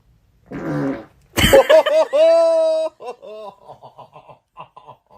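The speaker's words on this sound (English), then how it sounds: "you want to see one more video of someone farting on someone?" Farts from a played prank video of someone farting on another person, several loud sputtering blasts followed by short trailing toots, with chuckling and laughter around them.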